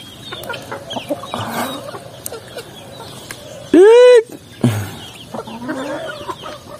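Native chickens on a farm cluck in short bursts, with one loud, sharp rising squawk near the middle close to the listener, against a background of quieter farmyard noise.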